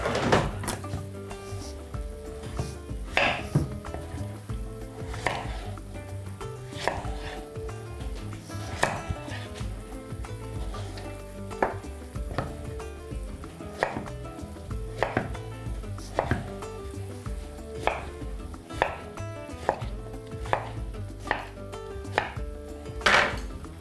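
A knife chops zucchini with its ends trimmed on a cutting board, giving close, sharp knocks in a steady rhythm of roughly two per second, interspersed with softer taps, with no talking.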